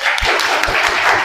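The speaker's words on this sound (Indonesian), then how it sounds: "Tepuk tangan untuk kelompok 5 dulu" Classroom applause for a student group presenting in a teacher-training session, dense steady clapping throughout a short burst, fairly loud and close.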